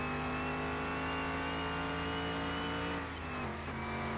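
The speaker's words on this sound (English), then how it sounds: "I don't like the sound of this thing. It's the supercharger." Supercharged car engine in the Car Mechanic Simulator 2021 video game revving with a steady, tonal whine that holds near and loud, then dips and wavers briefly toward the end.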